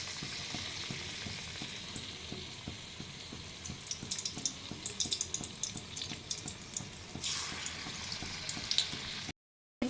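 Vegetable fritters dipped in batter fry in hot oil in a kadai, a continuous close bubbling sizzle with scattered crackles throughout, cutting out abruptly near the end.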